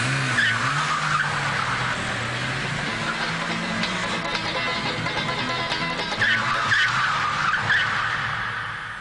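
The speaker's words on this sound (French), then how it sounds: "Just in 20 seconds, he just wrecked that car." Tires squeal and skid loudly throughout as a car slides, with engine drone beneath and no clear impact heard; continuous, busy noise from start to end.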